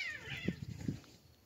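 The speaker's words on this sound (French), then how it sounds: "ça c'était mes chats" Domestic cats meow close by, startled by a stray cat: a high drawn-out cry followed by a couple of short lower yowls, all within a second and a half, with no talk.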